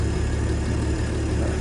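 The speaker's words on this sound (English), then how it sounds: "The engine does sound better though." An old Chevy, Ford or Studebaker engine runs at a steady idle, a low, even rumble with a regular pulse and no talking.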